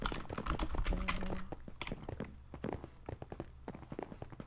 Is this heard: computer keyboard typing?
yes